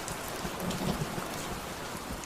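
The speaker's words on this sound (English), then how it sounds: "it's raining" Steady rain pours as ambient background during a tabletop role-playing session, with a soft, continuous hiss of drops and a low rumble underneath. It holds at an even level throughout, with no voices over it.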